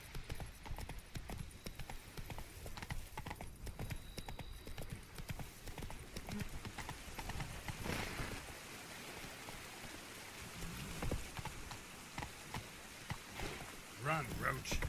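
In The Witcher 3, the horse Roach gallops with rapid, continuous clip-clop hoofbeats amid rain-like patter, and a voice speaks over it.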